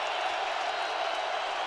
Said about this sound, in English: If this crowd was loud before, they're louder now